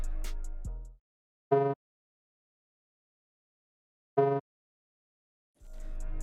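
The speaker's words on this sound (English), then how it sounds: "the last thing I added for the melody was just this simple like pluck note that hits at the end of" A simple synth pluck note acts as a short transition in a weird trap-style beat, heard as two brief isolated hits separated by silence, with fragments of the melody at the start and end.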